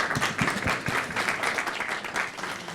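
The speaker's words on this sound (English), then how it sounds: "So if we can give Hanover a round of applause." A workshop audience gives a round of applause, a brief burst of many hands clapping at close range, even and sustained for a few seconds.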